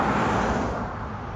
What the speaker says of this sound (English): And of course, there's lots of cars coming.